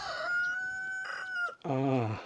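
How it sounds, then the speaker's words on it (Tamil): A rooster crows in a mountain village in Bosnia, a drawn-out cock-a-doodle-doo up close, followed by a second lower, rougher fowl call at the end. "சேவல் கூவுதா கோழி கூவுதா"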